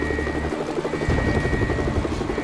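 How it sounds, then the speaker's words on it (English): Helicopter rotor chopping steadily in the LEGO Marvel video game, a loud continuous thudding drone with game effects layered over it, no talk. "Go away, helicopter."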